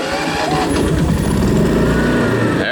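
An engine with a 6.6 gallon tank runs loudly and steadily up close, a dense continuous rumble with no pauses.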